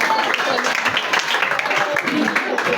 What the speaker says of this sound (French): Frère Obed peut s'approcher sous nos applaudissements